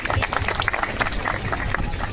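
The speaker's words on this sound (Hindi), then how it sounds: "एक बार जोरदार ताली बजा के लखन भैया का अभिवादन कीजिए।" A rural crowd greets Lakhan Bhaiya during a minister's and MP's irrigation project inspection with dense, continuous clapping that forms a loud, rushing wash close by, mixed with background voices.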